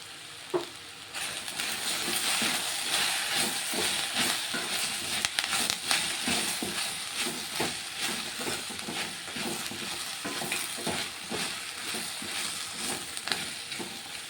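Okra (lady's finger) sizzling and crackling steadily in a frying pan, with occasional stirring scrapes, close and moderately quiet throughout.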